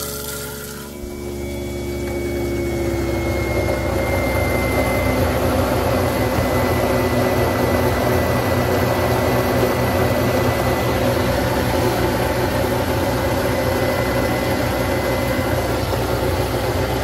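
A kitchen garbage disposal, a Whirlpool or Waste King unit being repaired for a leak, starts up with a click and settles into a steady, loud motor hum and rumble with running water, continuing evenly without talk.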